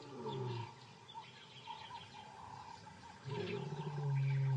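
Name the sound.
lion roaring, white lion brother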